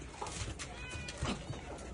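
Cats meowing from a neighbouring shelter enclosure, a few drawn-out calls heard over steady background noise.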